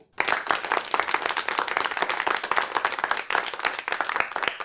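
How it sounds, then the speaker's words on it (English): Audience clapping as a performer is welcomed to the stage before a quiz show, a crisp, dense patter of many hands starting abruptly, loud and close, dipping briefly partway through, then resuming. "Welcome, clap please."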